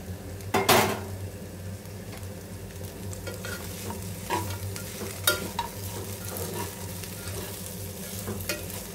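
Fried peanuts being stirred into okra frying in a pan, a close sizzle with repeated spoon scrapes and clinks against the metal, one loud clatter near the start, and no voices.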